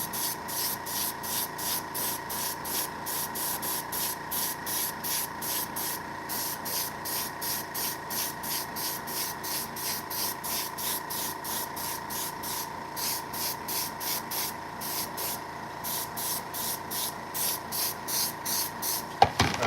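A spray gun or can paints custom shoes with a rapid, even train of short hissing bursts that continue for the whole stretch at close range, ending with a faint clack.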